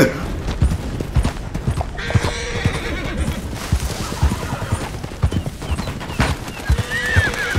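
A horse in Red Dead Redemption 2 whinnies and neighs over a steady clip-clop of hooves, loud and close, with occasional bursts of distant gunfire and a voice talking at times.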